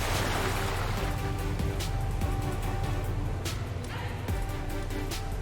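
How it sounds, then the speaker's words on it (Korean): Heavy, rough ocean waves churn and surge continuously around a fishing boat at sea in the North Atlantic fishing game, a dense steady wash with low rumbling and occasional splashes, loud throughout. "파도가 엄청 세네"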